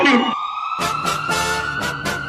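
A loud, wailing ambulance siren blares close by in a crowd at a political rally, its steady tone broken by short blasts of a horn or whooping bursts.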